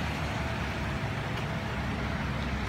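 Distant road traffic, a steady low rumble of passing cars and trucks, filling the background without any clear single vehicle standing out.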